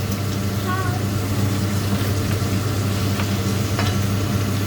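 Food is mixed and stirred in a frying pan with a low, steady sizzle and light scraping, while voices murmur in the background.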